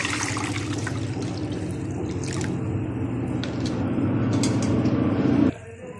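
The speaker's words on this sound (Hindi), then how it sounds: "कढ़ाई चढ़ाऊंगी, चढ़ा लिए, इसके अंदर जो है वो पानी डालेंगे।" Water pours steadily into a kadhai on the stove for a dal mash dish, a continuous splashing rush that builds slightly before stopping abruptly near the end.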